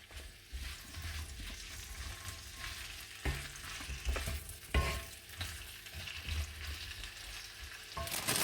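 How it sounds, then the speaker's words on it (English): Vegetables tossed into hot oil in a pan on a stove at maximum heat sizzle and crackle steadily, with clattering stirs and scrapes of a utensil throughout. "Let us toss in our vegetables. I've increased the heat to maximum on my stove."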